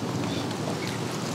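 A boat driven on open water gives a close, steady rush of water and wind noise, a constant washing roar across the whole moment, with no talking.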